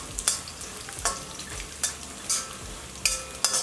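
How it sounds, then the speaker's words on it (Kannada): Garlic frying in hot oil in a pan while spicy street-style churumuri is being made, with a continuous close sizzle broken by several sharp scraping stirs of a spoon, and no talk. "ಬೆಳ್ಳುಳ್ಳಿ ಇನ್ನೂ ಸ್ವಲ್ಪ ಫ್ರೈ ಆಗಬೇಕು."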